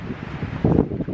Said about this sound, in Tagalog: Mahangin eh. Malamig yung hangin.